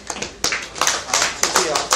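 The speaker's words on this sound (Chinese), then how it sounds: "鼓掌，非常好" A middle-school math class applauds with a series of sharp, close handclaps in an uneven rhythm, several people clapping together in a classroom.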